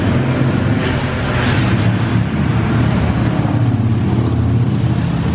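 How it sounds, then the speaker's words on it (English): Loud, continuous engine roar of motorcycles and street traffic in Barcelona near the Sagrada Familia, steady throughout with no pauses. "Those motorcycles are very loud,"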